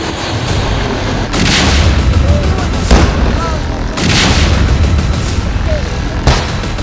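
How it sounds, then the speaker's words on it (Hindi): Heavy explosions from bombing during an army assault on militant hideouts in an Anantnag encounter: several deep booms roughly a second or two apart, each followed by rolling rumble, loud and fairly near. "कितना जबरदस्त विस्फोट इस समय यहाँ पे हो रहा है।"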